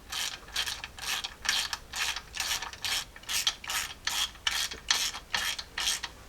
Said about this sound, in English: I'm just going to thread in all of our bolts, and then we'll just snug everything up in a crisscross pattern